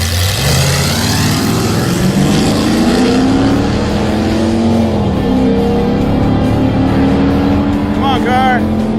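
The Mazdarati race car roars down a drag strip, its engine rising in pitch as it accelerates hard and then fading away into the distance, with excited voices calling out over it.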